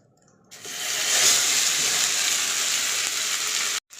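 Pea paste hits hot oil with cumin in a wok, bursting into a loud, steady sizzle that holds strong for about three seconds before cutting off abruptly.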